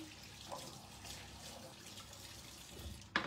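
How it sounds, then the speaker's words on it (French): Running tap water rinsing a metal whisk at a kitchen sink, a steady faint splashing stream lasting a few seconds with a sharper clatter at the end. "Je vais juste nettoyer mon fouet."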